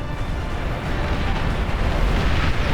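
Nuclear explosions in the RTS video game Beyond All Reason during a massive 50 versus 50 battle, a dense, continuous roaring rumble of blasts piling on top of one another, loud and unbroken.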